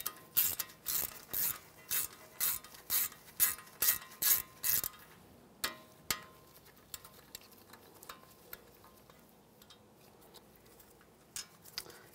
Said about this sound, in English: Just use a 8mm socket. Take this bolt out.